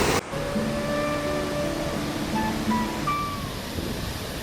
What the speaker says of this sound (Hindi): पुष्पावती नदी की कल कल की आवाज़ आ रही है।